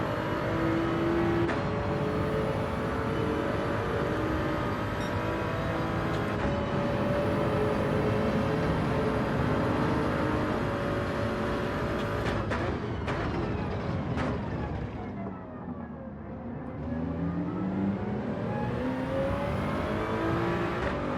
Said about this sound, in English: Look at the acceleration on the Jag.